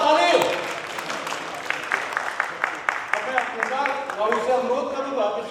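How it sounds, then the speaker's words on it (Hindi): An audience claps at a book release programme, applause building into a steady patter of hands while a voice talks over it. "जोरदार ताली"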